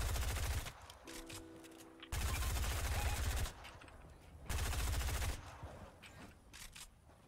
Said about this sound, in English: Look, I'm shooting anyways.